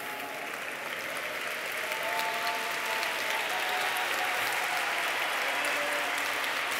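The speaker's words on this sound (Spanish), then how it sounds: "Enhorabona, un fort aplaudiment a tothom." An audience at a university graduation ceremony claps for graduates in sustained applause, a dense, steady wash of many hands that holds at an even level from start to finish.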